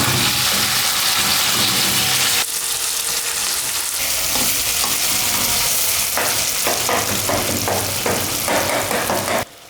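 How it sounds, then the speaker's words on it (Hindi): Chunks of beef fry in hot oil in a karahi, a loud, dense sizzle close by, broken by scraping and clattering stirs that grow more frequent toward the end; no voices. "गोश्त को हमने ऑयल में अच्छे से फ्राई कर लेना है। इसको हमने इतना फ्राई करना है कि इसका कलर चेंज हो जाए।"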